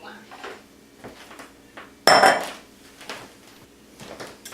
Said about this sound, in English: Then I'm going to go ahead and get a bowl.